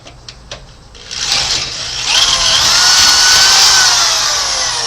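A power drill whines up and grinds steadily through the steel frame of a 1982 Chevy C30 tow truck, starting after a couple of sharp clicks and holding a loud, high-pitched rising screech close by.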